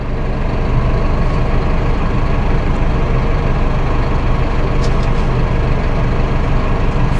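Massey Ferguson 5S.145 Deluxe tractor with Dyna6 transmission idling, heard close from near the steering wheel as a loud, steady low diesel rumble with no speech.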